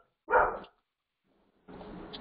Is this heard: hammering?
no